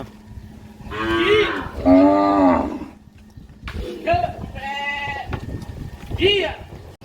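Several village cows low in long, drawn-out moos, one after another, fairly close, with a low background rumble between calls.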